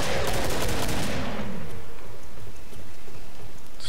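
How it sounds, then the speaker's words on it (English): Gunfire in the video game Killing Floor bursts loudly at the start as a dense rapid volley, then fades into a noisy wash of game sound for the rest. "He's shooting."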